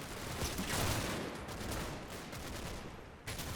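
A machine gun team firing in Combat Mission: Battle for Normandy, with dense, rapid gunfire that rolls on almost without a break as a steady distant fusillade, and no one speaking.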